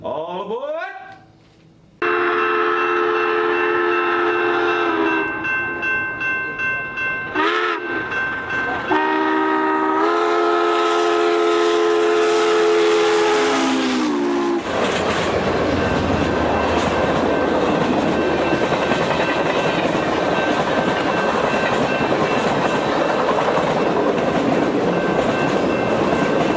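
Train sound effect with a long horn or whistle blast and rolling rail clatter, loud and close, building into a steady rumbling roar of cars on track; a voice speaks briefly over it.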